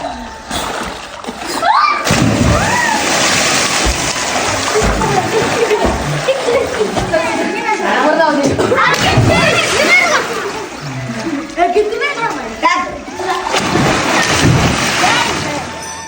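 Children jump into water and play, sending up repeated loud, close splashes and sloshing while kids shout and chatter over the commotion.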